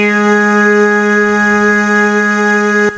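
A Yamaha PSR-E403 keyboard in dual voice mode, layered with strings, holding one sustained rich chord with steady harmonic tones, loud and close, that stops abruptly at the end.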